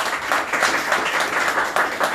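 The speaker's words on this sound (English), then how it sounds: "Let's clap for all the leaders." An audience at a live public speaking event claps for the leaders, a dense, even patter of many hands close by.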